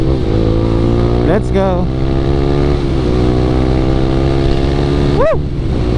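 A Yamaha Sniper 155 motorcycle with a new, resized front tire cruises along a road in hot weather, its engine droning steadily and close, with shifting harmonics and a brief rev. A voice speaks over the engine.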